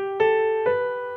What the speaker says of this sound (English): A third would involve three notes,